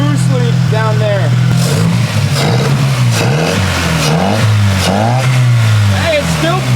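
A car engine with a large boost leak revs repeatedly up and down, loud and close, each rise and fall sweeping in pitch, while people talk over it.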